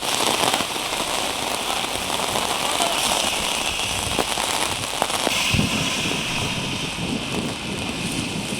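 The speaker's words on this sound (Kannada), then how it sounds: "ರಾಜ್ಯದಾದ್ಯಂತ ಮಳೆಯ ಆರ್ಭಟ ಜೋರಾಗಿದೆ." Heavy rain pours in a Karnataka town during a hailstorm, a dense, steady roar of drops striking surfaces with occasional sharper hits, loud and continuous throughout.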